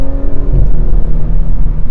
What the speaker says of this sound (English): Now listen to the exhaust.